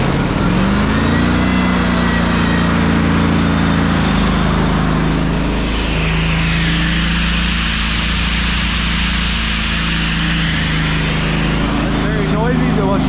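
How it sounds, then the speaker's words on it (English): A Kohler gasoline engine on a Boss Bullet 2 air compressor fires up and settles into a loud, steady, close-up running drone, with the pitch rising as it comes to speed. "this is a gasoline powered air compressor"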